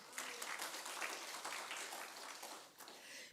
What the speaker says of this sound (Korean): 그 하나님께 영광의 박수